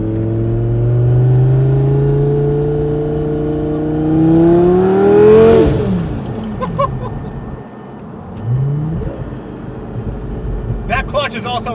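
A cheap Lamborghini's engine pulls hard, its rising tone climbing as it accelerates into boost, then drops off after the peak with a brief rev and rumble under someone talking over it.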